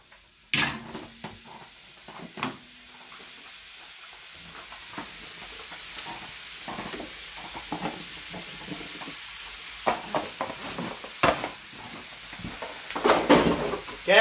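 Sliced peppers and carrots being stirred in a hot pan, a soft sizzle under scraping and knocking of the spoon, with intermittent sharper clatters toward the end.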